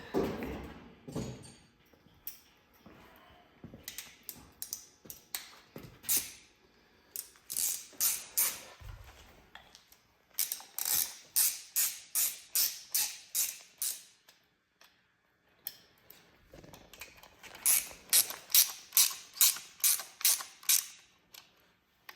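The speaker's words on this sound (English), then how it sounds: "Grab a ratchet." A ratchet tightens a motor plate bolt during a water pump install, giving repeated runs of crisp clicking strokes in rhythmic bursts with pauses between them, close and fairly quiet.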